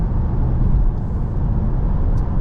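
Low, steady drone of a Citroen C5 AirCross PHEV 225 HP (2023) with its petrol engine running, heard from inside the cabin while driving at night, a constant close rumble without a break.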